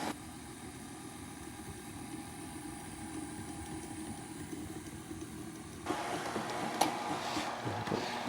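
Electric mixer steadily blending buttermilk and egg batter into flour, a continuous whirring motor hum that grows slightly louder and busier partway through, with no talking.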